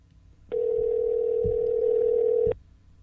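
A single steady telephone ringback tone sounds for about two seconds, clear and close, with faint thumps beneath.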